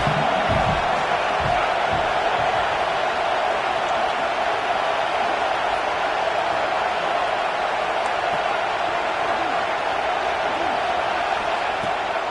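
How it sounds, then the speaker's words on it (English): Stadium crowd in the College Football 26 video game roaring and cheering, a dense, continuous wash of distant voices that holds steady at high level throughout, with a sports announcer's voice faintly woven in beneath. "This crowd knows when to bring it."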